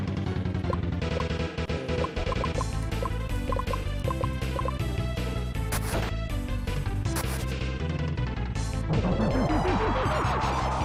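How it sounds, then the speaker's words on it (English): Water ninja bubble attack in a video game, a dense run of wet, bubbly dripping and popping effects layered over continuous game music, with a rising swirl of sound near the end. "water ninja attacks with bubbles"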